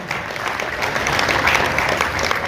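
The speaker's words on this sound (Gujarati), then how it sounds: "તાળીનો ગડગડાટ કરજો." An audience at a community service event claps steadily, a dense roar of applause from many hands that holds at an even loud level throughout, with a faint hint of voices beneath.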